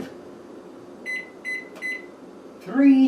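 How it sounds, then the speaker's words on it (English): Three quick electronic keypad beeps, then a microwave starts up with a low, steady hum. "Put in the microwave."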